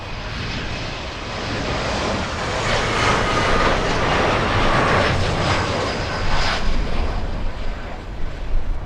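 An airliner on final approach to land at Miami International Airport, a broad loud jet engine roar that builds and stays steady throughout, with no speech.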